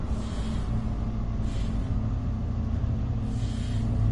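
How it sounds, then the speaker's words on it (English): A low, steady locomotive engine rumble from a DB BR 294 in the video game Train Sim World 6, with repeated airy hissing bursts of air brakes releasing, rising and fading a few times. "I think those sounds like the brakes are like trying to release or something."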